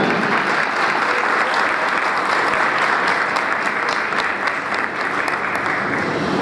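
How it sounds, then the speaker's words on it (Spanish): A crowd at a 2017 political campaign launch breaks into sustained, even applause, a thick wash of many hands clapping loudly throughout with no break. "¡Fuerte los aplausos para ella!"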